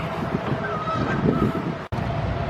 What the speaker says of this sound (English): There's two Canada geese swimming around the river.